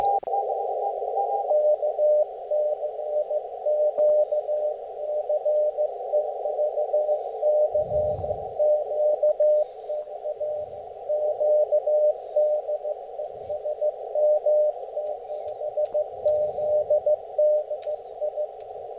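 A continuous ham radio tone hums throughout, with faint keyed beeps of a Morse code CW signal pulsing in a rapid rhythm over a steady background buzz.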